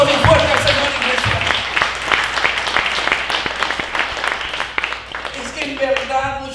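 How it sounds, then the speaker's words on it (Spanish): A church congregation claps loudly and steadily for several seconds, a dense wash of many hands that fades toward the end as a voice returns. "Denle un aplauso bien fuerte al Señor, iglesia"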